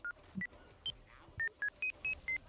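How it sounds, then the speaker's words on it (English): A computer crashing with a kernel panic emits an irregular series of about nine short electronic beeps at shifting pitches, some higher and some lower, with faint low thumps between them in a quiet room. "It's beeping at me."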